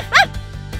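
A small cartoon dog gives one short, high yip, near and loud, followed by a couple of soft low thumps in an animated French children's series about pets at a hair salon.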